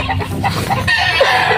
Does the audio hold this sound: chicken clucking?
yes